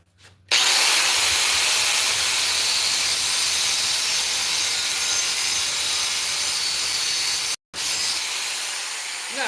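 A power tool grinds continuously through stag antler handle material for a kukri, a loud, steady hissing rasp lasting several seconds with one brief stop near the end before resuming.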